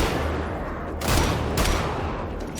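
Shotgun blasts ring out inside a small tavern room in the video game Wolfenstein: The Old Blood. Two loud booms come over a dense, noisy game backdrop.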